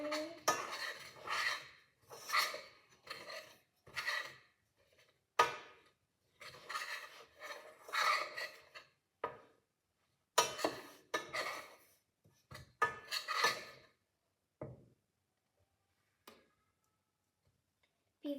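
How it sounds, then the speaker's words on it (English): Homemade soap mixture stirred in a hot pot, an irregular series of scraping and clinking strokes of a utensil against the pot, close and fairly quiet, with pauses between strokes and no talking. "Stirring."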